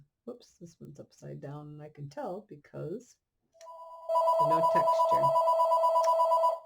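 A telephone starts ringing with a loud, steady electronic trill partway through while someone talks over it during a paper sunflower craft demonstration.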